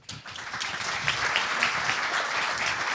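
Applause from a conference audience welcoming a speaker on Python, swelling quickly from a quiet start into a steady, fairly soft patter of many hands.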